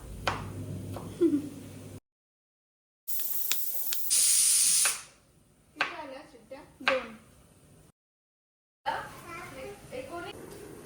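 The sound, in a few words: pressure cooker whistle releasing steam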